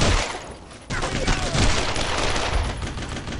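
Gunfire in Brothers in Arms: Road to Hill 30, a dense, crackling burst of rifle and machine-gun fire that jumps louder about a second in and keeps rattling close and continuous, with no clear voices over it.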